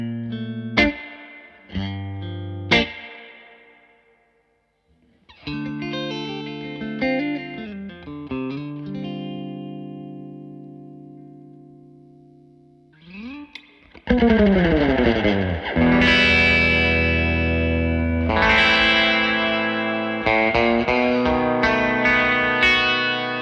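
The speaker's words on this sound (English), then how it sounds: "if your preference is the very wet surf type reverb" Electric guitar notes and strummed chords through a Victory amplifier with reverb and tone turned high, drenched in wet, splashy surf-style spring reverb, each note trailing off in a long echoing tail, played loud and close.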